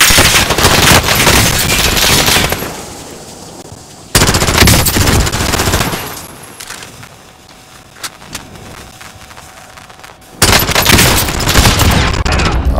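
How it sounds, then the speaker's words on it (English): Submachine gun fire in the video game Warzone: loud, sustained automatic bursts, one long volley, a quieter stretch with scattered shots, then another heavy burst at the end. "That is a submachine gun."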